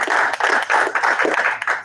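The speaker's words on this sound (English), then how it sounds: "I could get a round of applause on that" A board of education meeting audience applauds, a brief patter of clapping from a modest crowd in a meeting room.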